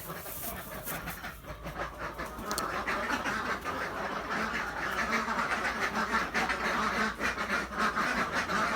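Egg-laying ducks quack repeatedly nearby, a busy chorus of overlapping calls over a low background hum.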